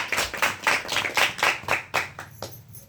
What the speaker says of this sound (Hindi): सब ताली बजाएंगे।